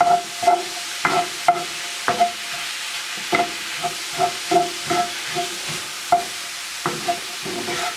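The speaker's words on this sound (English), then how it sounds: "We're going to stir this right into our mix." A spoon stirs a bison bolognese mixture in a cast iron pan, giving a steady run of distinct scraping and clacking strokes over a soft continuous sizzle, close and fairly loud, with no talking.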